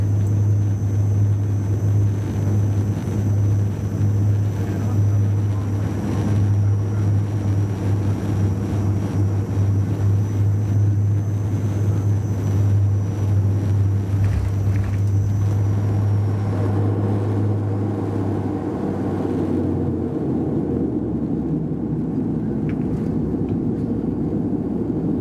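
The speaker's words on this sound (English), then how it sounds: "here is our landing onto runway 35 at Bergen Airport." Cabin sound of a Widerøe Dash 8 landing on runway 35 at Bergen Airport, a loud steady engine drone with a strong low hum and a high whine that shifts and fades as the plane slows on the runway.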